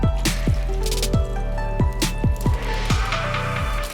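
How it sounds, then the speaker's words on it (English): Herb liquid poured into a pocket of chicken for beggar's chicken, giving a run of wet squishing, dripping and gurgling sounds, close and fairly loud. "now we're going in with the rest of the herb liquid"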